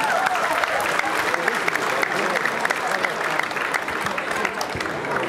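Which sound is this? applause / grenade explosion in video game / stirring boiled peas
applause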